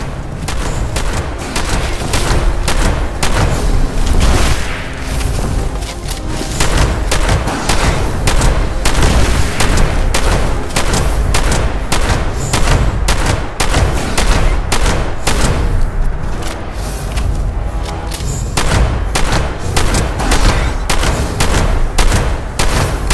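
Rapid, repeated gunfire from double-barrel and other ballistic shotguns in the video game Fallout 76, loud and continuous blasts with booming low end and no pauses or talk.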